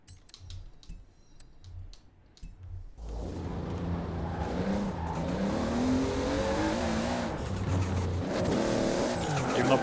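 A Supra drift car in the Forza Horizon video game sits at a quiet ticking idle, then its engine revs up and holds a loud, rising roar with tire noise for the rest of the clip.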